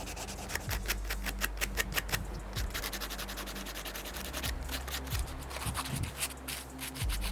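Sandpaper rubs over a roe deer skull bone during home taxidermy, a soft, steady scratching with quick repeated strokes up close, faint and continuous throughout.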